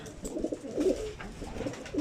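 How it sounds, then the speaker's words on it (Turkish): Pigeons coo in a steady low murmur of overlapping calls, several birds close by, with no voices. "Hepsi uçan kuş arkadaşlar"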